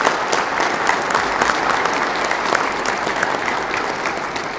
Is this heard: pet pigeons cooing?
no